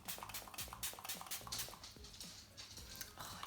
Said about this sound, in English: I'm so sorry about my dog's footsteps.